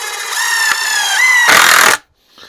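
A power driver sinks a screw into wood while building a dolly: a rising motor whine for about a second and a half, then a brief harsh grinding bite as the screw seats, cut off abruptly.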